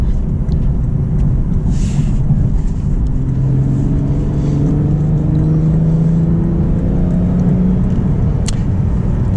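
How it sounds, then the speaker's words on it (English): Lexus IS 350 F Sport accelerating on a highway, a steady loud engine drone that rises in pitch through the gears over constant road and wind rumble, heard from inside the cabin. "Now we'll accelerate on the highway."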